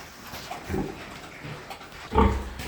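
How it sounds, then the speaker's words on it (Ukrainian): Piglets grunting in a pig pen, a few short low snorts and grunts, one soft burst early and a louder cluster near the end, close by with no talk. "От такі тут вже поросятка ці"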